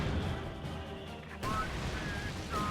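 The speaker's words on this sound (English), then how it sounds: "they are just pounding us with artillery. 2 mortars, a mortar half-track, and another mortar from that guy." Mortar artillery fire in the video game Company of Heroes 2 lands as faint, muffled booms and a sharp burst amid a low battle wash, fairly quiet overall.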